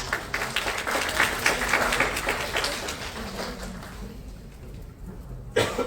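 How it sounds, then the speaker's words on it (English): Applause rises from the audience at a business analytics competition closing ceremony, a fairly loud scatter of clapping that thins and fades toward the end before a final sharp sound. "So everyone, please give us a round of applause."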